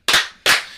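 Two sharp hand claps land about 0.4 seconds apart, crisp and close, each with a short room decay and no talking.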